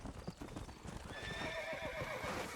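Horse hooves clip-clop steadily as a rider trots out of town in the Red Dead Redemption video game, close and clear, with a brief whinny-like tone partway through.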